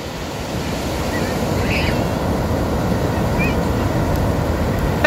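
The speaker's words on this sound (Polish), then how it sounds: "Idzie Fala, Tomasz." Loud surf at a beach in New Zealand, with a wave rolling in and crashing continuously. Heavy wind buffets the microphone, and faint voices sound briefly in the background.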